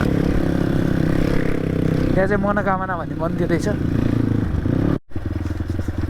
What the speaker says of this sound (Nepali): आमा जङ्गल हल्लाइदिएछ, बाघ भालु पनि तर्सिन्छ अरे यहाँ त केटाहरूको बाइकको आवाजले।